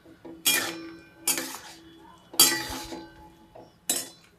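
Metal spoon scraping and clinking against a cooking pan as vegetable bhaji is stirred, four distinct bursts of scraping at a steady pace, close and fairly loud with no talking.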